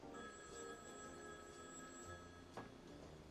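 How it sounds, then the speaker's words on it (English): A telephone bell rings steadily in an indoor room, the ringing running continuously at moderate volume with no talking over it. "the phone rings."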